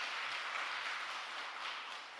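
Congregation applauding inside a church during a Tuesday worship gathering, a faint, steady wash of many hands clapping together that holds for a couple of seconds and thins slightly near the end.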